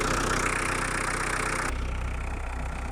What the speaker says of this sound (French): Donc voilà le bruit du magnifique moteur